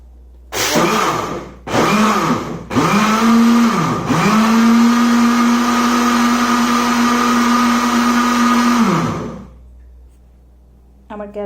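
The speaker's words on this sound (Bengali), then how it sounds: "এখন আমি সব উপকরণগুলো ব্লেন্ড করে নিচ্ছি।" A kitchen blender whirs through pudding ingredients, starting with a few short pulses before settling into a loud, steady motor drone for several seconds, then cutting off.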